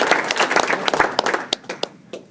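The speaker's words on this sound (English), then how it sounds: "let's give Mr. Jungherr another round of applause in honor of this namesake award." A crowd at an awards ceremony applauds, a dense burst of many hands clapping that thins to a few scattered claps and fades out within about two seconds.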